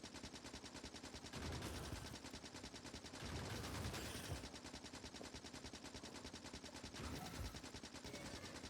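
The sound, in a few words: turret gunfire from the video game Factorio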